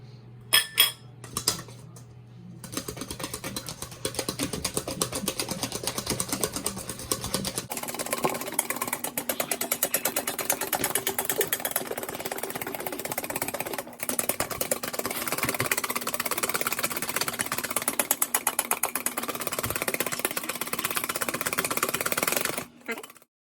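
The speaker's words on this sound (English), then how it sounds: "You're gonna keep mixing with the fork until it looks nice and creamy" A fork beats a mixture in a bowl until creamy, making a fast, continuous rhythmic clinking against the bowl for most of the stretch, while someone talks over it.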